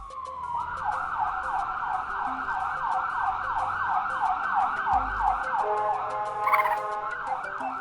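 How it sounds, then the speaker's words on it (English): An ambulance siren wails in a steady repeating rise-and-fall pattern, fairly loud and continuous throughout, with faint road traffic underneath and no talking. "Blizzy, Is it an ambulance?"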